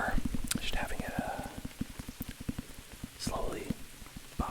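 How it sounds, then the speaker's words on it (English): Rain pattering on a car while driving, with a fast, even tapping rhythm running throughout and occasional brief swishing sounds, close and fairly soft. "hopefully the sound of rain and being in back of a car"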